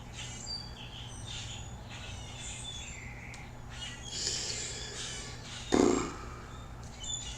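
Several birds chirp and call in the morning, a busy outdoor chorus with one louder, nearer call near the end.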